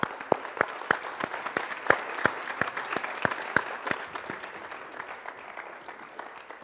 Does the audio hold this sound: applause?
yes